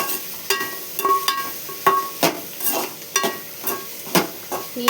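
Bottle gourd pieces are stirred in a hot cooking pan with a utensil, giving repeated close scraping strokes and clinks over a soft sizzle, no voices.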